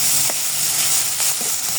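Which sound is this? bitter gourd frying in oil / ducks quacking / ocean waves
bitter gourd frying in oil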